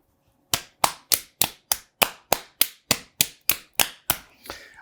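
One person claps their hands about a dozen times in a steady, even rhythm during a clap-for-health exercise. The claps are sharp, close and loud against silence, and the last one trails into a soft rustle.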